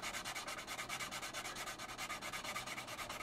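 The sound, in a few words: sanding scale model part with medium grit sanding stick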